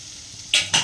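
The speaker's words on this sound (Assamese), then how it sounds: "এইফালে তিতাকেৰেলা ভাজি আছোঁ" Two quick bursts of stirring and sizzling as bitter gourd fries in a hot pan, close by, after a brief quiet moment.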